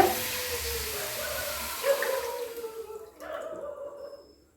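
Two tumblers of water pour into sugar in a pan while making Bombay halwa, a continuous close splashing stream that falters briefly, resumes, then stops.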